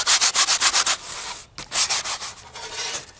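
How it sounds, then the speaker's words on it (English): Sandpaper rubbed by hand over the rough edges of a Lionel action accessory for a model train layout: loud, close, rhythmic scratchy strokes in quick bursts, a brief pause, then more uneven sanding passes. "I like to take a little bit of sandpaper on that too"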